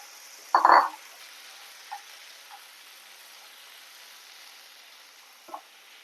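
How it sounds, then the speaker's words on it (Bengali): Fried lentil dumplings (bori) drop into a mixed vegetable curry as it cooks, giving a short sizzling splash, then a faint steady sizzle with a few small pops. "এবার ভেজে রাখা বড়িগুলো দিয়ে দিচ্ছি।"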